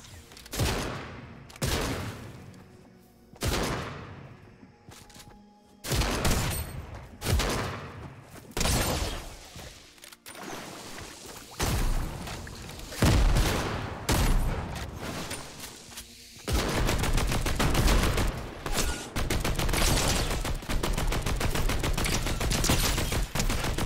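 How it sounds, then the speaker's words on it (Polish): Gunfire aimed at the player in the Fortnite video game crackles in rapid repeated bursts and heavy single shots, loud and close, building into a sustained barrage near the end. "Ktoś znowu tu do mnie strzela."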